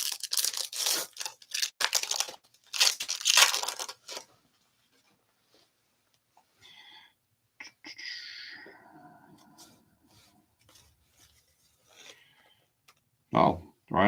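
Foil packs of 2025 Topps Holiday Baseball cards are torn open with a few quick crinkling rips up close, followed by quieter handling rustles and a closing tear.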